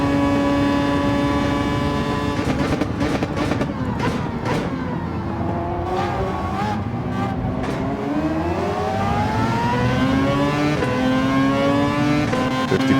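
Race car engine in Gran Turismo 7 roaring steadily, its pitch climbing through the gears as the car accelerates, with a smooth rising whine in the final seconds; loud and continuous.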